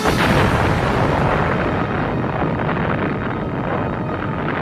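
A massive volcanic explosion roars steadily and loudly throughout, a dense, rumbling blast with no pauses or voices.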